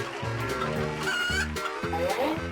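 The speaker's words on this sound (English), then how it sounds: "Chicken." Chicken clucks as part of a run of animal sounds in a door-choosing game, a repeated series of clucking calls over busy cartoonish background music, fairly loud and close.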